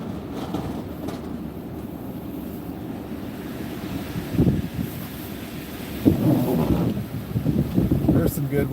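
Gusty wind roars through a snowy Pacific Northwest scene as a steady broadband rush, swelling into louder blasts near the middle and again toward the end, with a voice briefly audible.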